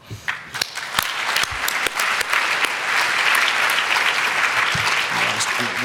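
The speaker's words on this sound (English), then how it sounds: "one more round of applause for all of our Titan Award winners" Loud applause from a large crowd at a conference closing session honoring award winners. It starts with scattered claps and quickly swells into a dense, sustained ovation.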